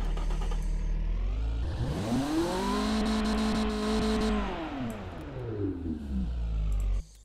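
A car engine in the BeamNG driving game revs up to a high, sustained whine, holds steady, then drops back down, loud and close with no talking.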